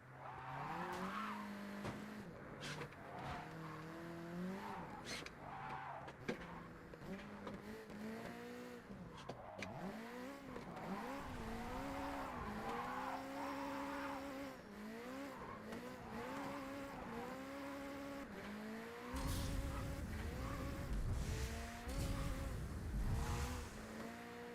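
Cars race in a JDM driving video game, with engines revving up and down in repeated gear-shift sweeps. Tires squeal briefly now and then, and a louder, rougher stretch comes near the end. The engine noise is continuous and there is no talking.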